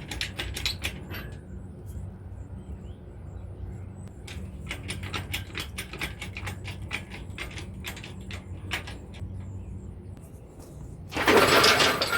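A ratchet runs bolts in during an LS engine swap on a 1987 Trans Am, giving bursts of rapid metallic clicks over a low workshop hum, close by, ending in a loud rush of broadband noise.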